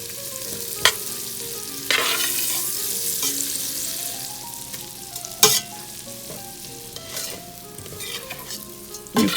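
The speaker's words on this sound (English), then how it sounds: "melt the butter, and let them get nice and toasty brown" Vermicelli noodles frying in melted butter in a pan, a steady close sizzle with occasional scrapes and clicks of stirring, no voices.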